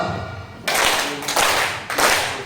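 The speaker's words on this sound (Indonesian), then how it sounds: "pertama kita tepuk power push dulu" Students in a classroom perform a 'power push' clap routine, three sharp, loud bursts of unison clapping after a quiet start, each burst separated by a brief gap.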